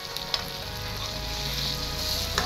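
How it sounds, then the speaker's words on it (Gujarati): Stuffed potato and brinjal curry sizzles steadily in a pan at close range while a utensil stirs it, with a few light scraping clicks over the continuous frying hiss. "શાકને હંમેશા હલાવતા રહેવું"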